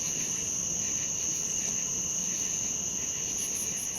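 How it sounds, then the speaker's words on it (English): Steady, unbroken night insect drone on Patoka Lake, thin and high-pitched, continuous and even throughout with no other sounds over it. "I can still hear those mosquitoes buzzing."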